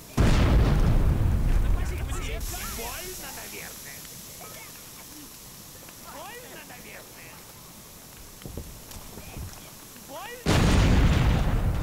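Explosions in the video game Overlord: a heavy booming blast opens, then quieter battle noise with a voice talking, and another loud, broad explosion erupts near the end.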